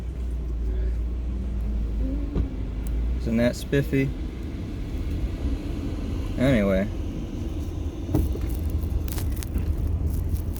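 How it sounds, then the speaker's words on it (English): A car engine rumbles steadily at idle throughout, a low constant drone, while a person speaks briefly over it. "my car is on."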